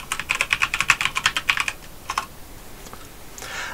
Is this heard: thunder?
no